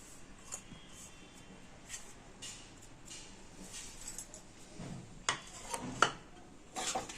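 Khoa kheer being stirred into carrot halwa in a pan, heard as a few faint metallic clinks and scrapes of a spoon against the pan near the end, in an otherwise quiet kitchen.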